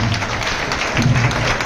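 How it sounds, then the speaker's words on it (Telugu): An audience at a Janasena party meeting applauds to welcome a guest with a dense, steady clatter of many hands that is loud and close and does not let up, while a voice briefly murmurs underneath. "వారికి మీరందరూ చప్పట్లు కొడుతూ ఒకసారి స్వాగతం చప్పట్లు కొడుతూ స్వాగతం"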